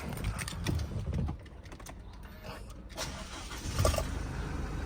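A Thai-market Isuzu D-Max Hi-Lander four-door pickup with the 1.9 engine and automatic gearbox cranks and fires up nearby, its engine settling into a steady idle rumble with some clicking and rustling around it.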